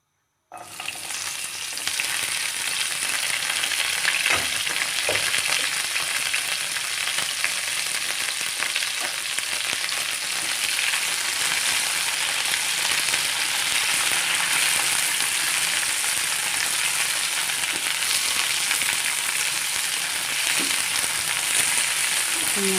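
Capsicum hits hot oil in a pan and keeps up a loud, steady sizzle for over twenty seconds, with occasional faint scrapes of stirring over the constant frying hiss.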